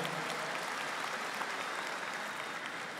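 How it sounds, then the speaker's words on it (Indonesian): An audience at a large Islamic religious gathering claps steadily, a dense, even applause from a crowd at moderate distance, with no talk over it. "Tepuk tangan untuk Majelis Tafsir Al-Quran."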